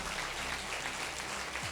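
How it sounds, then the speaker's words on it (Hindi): Audience in a Hindi motivational seminar claps for an upline, a steady dense wash of applause filling the short stretch with no voices over it. "और तालियां कैसी बजानी है आप खुद महसूस कर सकते हो"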